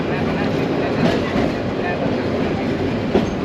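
Local train from Dhaka running into Narayanganj, a continuous loud rumble heard from inside the carriage with a few faint clacks from the wheels and murmuring passengers.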